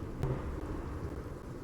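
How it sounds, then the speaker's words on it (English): Low rumbling thunder in the Planet Zoo video game, a steady dull roll with rain-like texture filling the short span, heard alone at moderate distance. "geez, it's like thundering"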